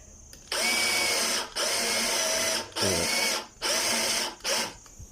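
A power drill whirs at close range in five bursts, with short pauses between each run, an arrowhead bit drilling into glass.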